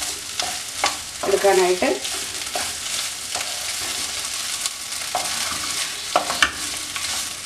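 Potato egg thoran with curry leaves and coconut oil stirred in a hot pan, a steady sizzle under repeated scraping strokes of a spoon, close and moderately loud, with a brief spoken word near the end.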